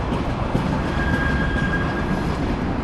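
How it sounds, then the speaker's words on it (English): Train pulling out of Bologna Centrale station in Italy, heard from a distance as a steady, continuous rumble of rail cars with a faint thin wheel squeal. "You see the train pulling out there."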